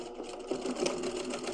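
A sewing machine stitches back and forth along a quilted tote bag seam through lining and flex foam, with a steady close mechanical whir and short shifts in pace as the stitch direction reverses.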